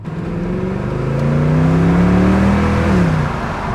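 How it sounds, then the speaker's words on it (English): Exhaust of a Mercedes W219 CLS63 AMG heard from inside the cabin with the windows down: a loud, steady V8 note that swells as the car pulls, with a gliding engine tone, then eases near the end. "Let's listen to the exhaust with the windows down."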